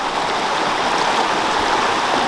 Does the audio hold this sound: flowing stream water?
yes